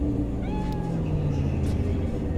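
A cat in the Cyberpunk 2077 video game gives a short meow over steady low game ambience and music, clear but not loud.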